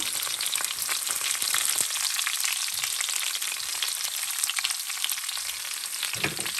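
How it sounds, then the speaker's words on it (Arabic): Peppers fry in hot oil in a pan for a Tunisian merguez ojja, giving a steady, dense sizzle that stays close and even throughout, with faint low bumps from the pan and no voices. "كنجي نهز الفلفل تاعي هذاك نقليه هنا في الزيت هذه شويه."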